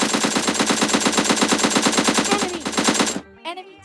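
Rapid, sustained automatic fire from an AKM assault rifle in a video game, a loud, continuous burst of evenly spaced shots lasting about three seconds before cutting off abruptly, followed by brief quieter game sounds.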